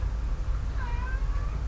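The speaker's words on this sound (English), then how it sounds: "you will hear a cat in the background. Ignore the cat." A single drawn-out cat meow, moderately loud and near, rising and falling over a steady low background rumble.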